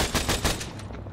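An AAV gunner's machine gun fires at a beach during amphibious assault training, a rapid burst of about five sharp, loud shots in quick rhythm before the noise tails off.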